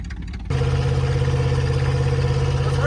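An abandoned big block Ford 4x4 engine, sitting for decades, rumbles into a steady, loud idle after a brief quieter stretch, holding an even low drone with no revving.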